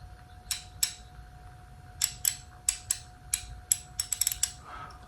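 A DeWalt 3/8 inch ratchet from a mechanic's tool set clicks in short separate bursts of sharp pawl ticks, close and fairly quiet, with a faint steady hum behind it.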